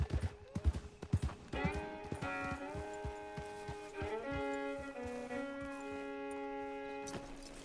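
Horse hooves clopping in Red Dead Redemption 2, a rhythmic trot at first, then partly covered by sustained tonal game music and sound effects, with the clopping returning near the end.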